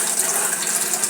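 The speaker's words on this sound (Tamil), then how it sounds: "கொஞ்சம் தண்ணி ஆட் பண்ணிட்டோம்" Water pours into a pot of murungai keerai (drumstick leaf) sambar in a brief, steady, hissing splash, close and fairly loud.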